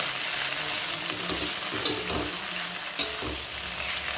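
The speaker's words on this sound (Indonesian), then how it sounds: "Tumis kangkung." Water spinach sizzles in a hot pan as it is stir-fried, a steady loud crackle with a few clinks and scrapes of the utensil against the pan.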